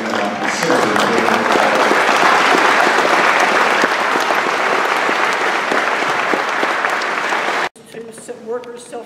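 Loud, dense audience applause fills a lecture hall during economist Richard D. Wolff's public talk in St. Petersburg, Florida, November 2015, holding steady for several seconds before cutting off abruptly, followed by faint room noise.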